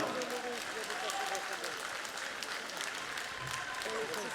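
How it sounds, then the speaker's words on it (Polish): Crowd applause fills an MMA gala arena after a fight, steady sustained clapping from a large audience throughout, with an announcer's amplified voice speaking over it. "wielkie brawa dla obu zawodników, naprawdę piękna walka!"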